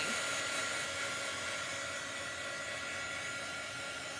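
A hair dryer blows steadily on a chalk transfer screen, a loud, even whooshing hum that runs unbroken throughout without any voices.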